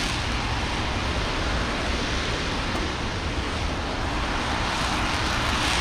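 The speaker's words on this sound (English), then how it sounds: "They're hitting the rocket exhaust, guys, with water as a sound suppressor, believe it or not." Rocket engine exhaust being doused with water for sound suppression during a test: a loud, continuous, steady roar with a broad hiss, unbroken for the whole stretch, with no voices.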